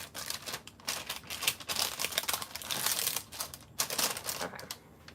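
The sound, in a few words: crinkling of plastic wrapping while making cake pops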